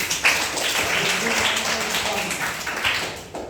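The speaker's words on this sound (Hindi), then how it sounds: "चलिए ताली बजाइए।" A school class claps hands in a quick burst of scattered, overlapping claps that fills the room and then tapers off.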